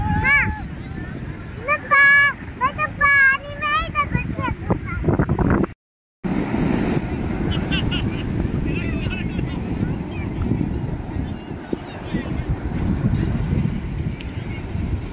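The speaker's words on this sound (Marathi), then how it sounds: "कसलं जोर जोरात लाटा येत आहेत ना." Strong sea waves crash at a shore, heard as a loud, continuous rumbling roar with heavy wind buffeting the microphone, while people talk over it in the first part.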